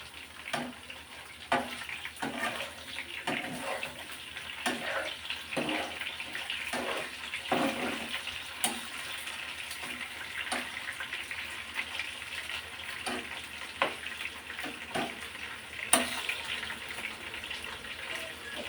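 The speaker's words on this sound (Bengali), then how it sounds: "চিকেনগুলো হালকা করে ভাজা করে নেব" Continuous sizzling and crackling of chicken frying lightly in a pan, with a steady hiss and occasional sharper pops, no voices.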